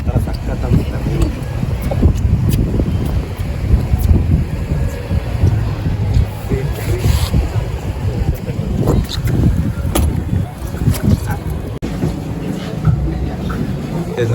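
A tourist boat cruising on open sea near the Phi Phi Islands in Thailand, with a constant rumbling engine and water rush under heavy wind buffeting the microphone, loud and unbroken throughout.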